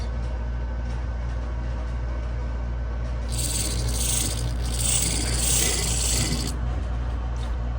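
A model locomotive fitted with a drive shaft made from a straw runs on rails, giving a steady close mechanical rumble and hum with a brighter rasping, scraping hiss that swells through the middle.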